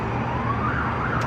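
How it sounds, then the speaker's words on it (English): An emergency vehicle siren wails steadily as it passes through a town during severe flooding, loud and continuous with a slowly shifting pitch, with road noise underneath and no talking. "Just gonna wait for that siren to pass."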